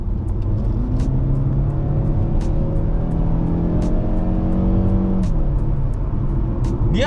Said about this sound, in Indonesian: Kalau dibecek gasnya